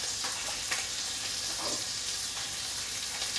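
Onion sizzles and fries with bacon in a hot pan as part of a chicken and bacon omelette, a continuous dense crackle with soft stirring scrapes, close and steady, without any talking.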